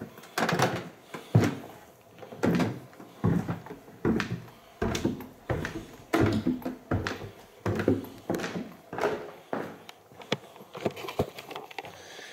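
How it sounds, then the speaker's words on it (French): A run of close door and drawer thumps, clunks and taps repeats irregularly inside a house, with rapid knocking bursts and no voices. "Ah, c'est des bruits de porte,"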